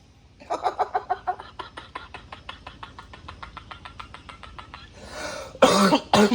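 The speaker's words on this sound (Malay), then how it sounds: "sampai terbatuk-batuk aku" Rapid, rhythmic fit of many short coughs close to the mic after eating spicy sour fish curry, loud at first then fading, followed by a sharp breathy burst and hiss.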